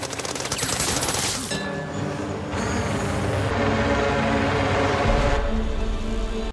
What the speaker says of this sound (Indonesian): Pengejaran terus dilakukan, hampir membuat Alex dan dua temannya ini terkena tembakan.